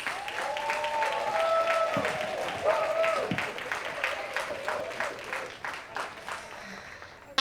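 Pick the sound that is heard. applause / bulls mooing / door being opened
applause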